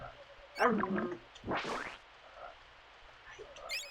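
Frog croaks from a swamp area in the video game Secret of Evermore, a few gurgling, croaky calls and a louder burst of watery synthesized sound, mixed with ambient game noise.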